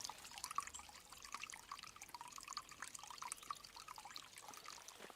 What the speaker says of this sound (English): in there you can see and hear a sluice